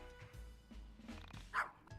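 A single short dog bark from the video game YIIK, fairly faint and set against low background game sound.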